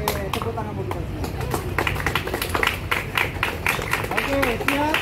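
A group claps hands in loose, quick rhythm outdoors at a community walking event, the claps mixed with loud talking and cheering voices.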